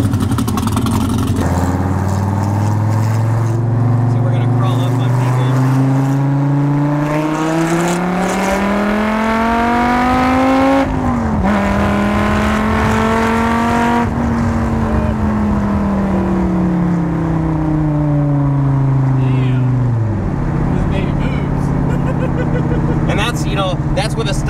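Modified car accelerating hard on a drive, engine roaring loudly and climbing in pitch through long gear pulls with sharp drops at each shift, close and dominant with people talking over it.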